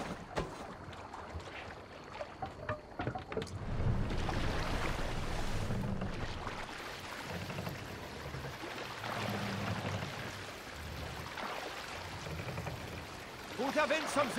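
A longship under sail in Assassin's Creed Valhalla, with steady rushing water and creaking hull noise swelling and easing in waves, wind in the background and faint voices now and then.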